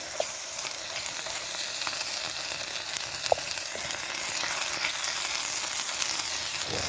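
Fried potato and bolognese mince sizzle steadily in a pan over a campfire at a wild camp in Scotland, a constant bright hiss with occasional small pops and crackles, moderately close and with no talking.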